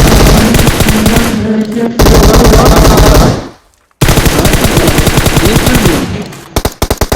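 Video game gunfire: loud, close bursts of rapid automatic fire in two long volleys split by a brief silence, ending in scattered shots.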